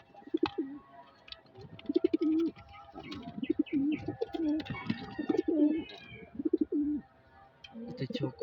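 Breeder pigeons coo in repeated low throaty bursts nearby, with light chirps and soft rustling between calls.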